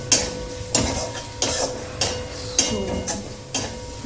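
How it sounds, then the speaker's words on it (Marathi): Food roasts in a pan in a home kitchen while a spatula scrapes and turns it in a regular rhythm, each stroke a short scrape over a constant low sizzle, close and fairly loud, with one brief spoken word. "1-2च मिनिटं आपण भाजून घेऊयात छानपैकी"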